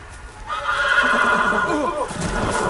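A horse in a Game of Thrones video game lets out a loud, close, drawn-out whinny lasting about two seconds, with faint hoof clops underneath.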